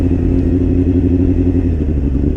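Motorcycle riding on a cold, icy road in sub-freezing winter temperatures, its engine giving a steady loud low rumble with constant wind and road noise throughout, no talking.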